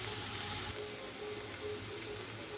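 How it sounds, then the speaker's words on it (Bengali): Onions frying in a pan for a Bengali prawn curry make a soft, steady sizzle that stays quiet and continuous through the whole short stretch. "পেঁয়াজগুলোকে ভালো করে ফ্রাই করে নেব।"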